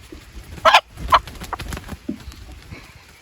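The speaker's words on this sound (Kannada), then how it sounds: "ಪಕ್ಕಾ ಪ್ಯೂರ್ ನಾಟಿ ಕೋಳಿಗಳು ಯಾವತ್ತೂ ಕೂಡ ಈ ಥರ ಇಟ್ಕೊಂಡಾಗ ಬಡ್ಕೊಂಡ್ರೆ" An old native country hen, about three years of age, held in the hands and squawking in a couple of sharp loud bursts amid rustling and faint background noise, no speech.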